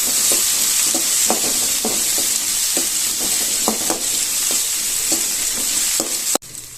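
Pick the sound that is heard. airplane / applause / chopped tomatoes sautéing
chopped tomatoes sautéing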